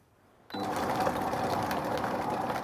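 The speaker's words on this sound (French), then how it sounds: "On va mixer le tout, mais pas trop." A food mixer whirs to life abruptly, blending cream and seasoning into a thick stuffing paste, then holds a steady, close motor drone to the end.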